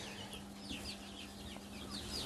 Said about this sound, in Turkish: Buraya civcivlerimizi aldık.